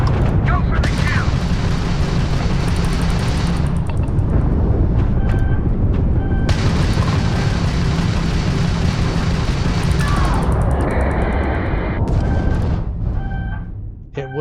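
Missile explosions and heavy combat blasts in the space game Starfield, a continuous loud rumble of booms and impacts with bright bursts layered through, while a person talks over the action.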